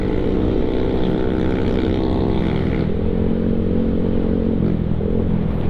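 A Yamaha Mio Sporty scooter engine revs hard nearby, a loud sustained buzzing drone that holds steady, then drops in pitch partway through as the throttle eases, with no talking.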